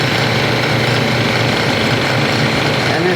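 Lathe tool cutting into a wooden chess pawn for a giant chess set, a steady loud whirring, grinding drone of the spinning wood and tool that runs unbroken throughout, with no voices.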